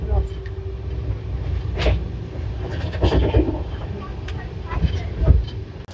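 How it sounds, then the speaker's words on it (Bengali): Rajdhani Express (Howrah–New Delhi 12301) running at around 130 km/h, a steady broadband rumble of wheels and carriage with occasional rattles and louder surges, heard from inside the train. "এই এখন আমাদের রাজধানী 129, 130 এরকম স্পিডে যাচ্ছে"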